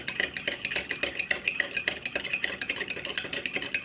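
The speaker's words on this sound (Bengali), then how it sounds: "ভালো করে নাড়তে হবে যাতে কফিটা সম্পূর্ণ মিশে যায়।" A spoon stirring coffee with sugar in a cup, clinking against the sides in a fast, regular rhythm, close and moderately loud.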